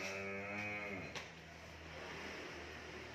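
At a cattle farm in Mỏ Cày Bắc district, Bến Tre province, a single cow gives one long, low, droning moo. It fades after about a second into steady outdoor background noise.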